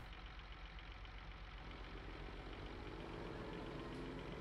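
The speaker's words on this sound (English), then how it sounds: "Oh, it's making whirring noises." Farm machine in Farming Simulator 19 starting up, a steady low whirring engine drone that thickens and grows slightly busier toward the end, with no talk over it.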